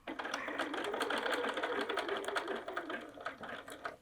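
A sewing machine stitches fabric while a town bag's pockets are assembled, running as a fast, steady mechanical whir and patter for a few seconds before slowing toward the end, with no voices.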